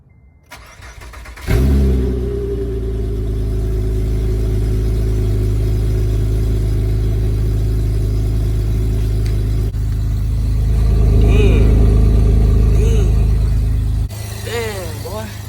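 A car engine on an Acura TLS fitted with a tuner cold-starts after a brief crank, then settles into a loud, steady high idle that swells slightly near the end before cutting off, with a voice briefly heard afterward.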